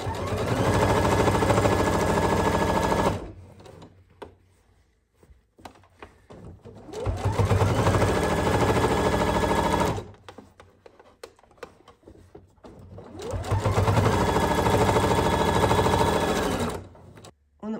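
A sewing machine stitches down a pocket on a garment in three loud, steady bursts of rapid whirring, with short quiet pauses between the runs.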